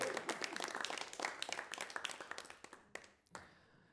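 Clapping from the audience at a French advertising agency awards ceremony honours the finalists, lively at first, then thinning out into a few last claps before stopping.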